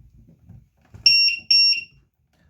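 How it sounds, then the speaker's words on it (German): Electronic beeping from a Nerf Stryfe blaster as it is plugged in: two loud, shrill double beeps in quick succession, preceded by faint handling clatter. "Das piepst immer ganz ekelhaft, wenn man das einsteckt."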